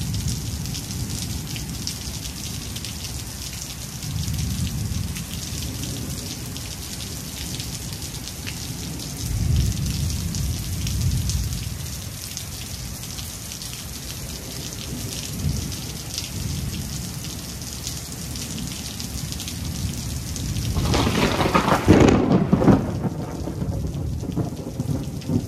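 Steady heavy rain pours alone, with rolling thunder swelling now and then and a loud close crack of thunder near the end.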